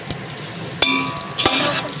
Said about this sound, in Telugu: లైట్గా ఫ్రై అవ్వాలి కాబట్టి ఆల్రెడీ ఫ్రై అయిపోయిన పీసెస్ కాబట్టి లైట్గా ఫ్రై చేసుకుందాం.